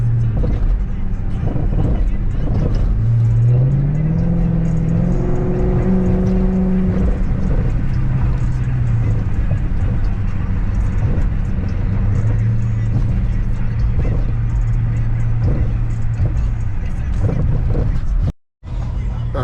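A car drives through city streets, its engine and road noise forming a steady, close drone that runs almost unbroken, with a muffled voice briefly audible and a short dropout near the end.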